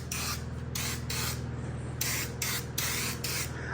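Turbo spray paint cans fire at a truck in a series of about six loud, hissing bursts with short gaps between them, each burst strong and steady, over a low background hum.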